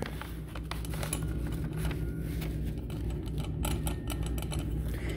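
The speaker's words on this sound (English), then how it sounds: "So this right here is part of this wastegate in here. You just sit there and just flap back and forth." Loose turbo wastegate flap on a 2017 Ford Fusion 2.0 EcoBoost with an under-boost fault, rattling in a steady, busy metallic clatter with dense rapid ticks over a constant low engine drone, close and fairly loud.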